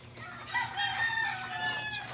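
Farm chickens on a rural plot, a rooster crowing with a drawn-out, wavering call over soft clucking, near and fairly loud for a couple of seconds.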